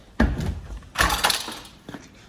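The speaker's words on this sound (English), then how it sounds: "So if we open this door here" A rusty, badly corroded old Mercedes car door is pulled open, giving a heavy thunk followed by a second louder clunk and a faint rattle, close up with no talking.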